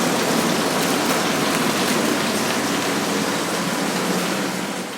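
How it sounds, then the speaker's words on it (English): A passing rain shower with huge raindrops falls in rural France, a dense, steady hiss of rain on surfaces that stays loud throughout and eases slightly at the end, with no voices. "There's a passing shower and they're huge raindrops."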